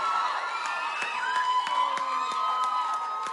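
A live crowd at a 2017 panel cheers and whoops loudly and continuously, with shouts and scattered clapping woven into the roar.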